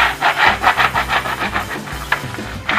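Hand-rubbing an aluminium calligraphy plate to raise the design: a close, steady series of scratchy back-and-forth strokes in an even rhythm, briefly pausing before resuming.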